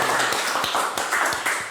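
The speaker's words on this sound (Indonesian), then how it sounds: "kita berikan tepuk tangan yang meriah untuk Mas Gary" An audience at a comedy talk show claps for a guest, producing a short, brisk burst of clapping that fills the brief moment at close range.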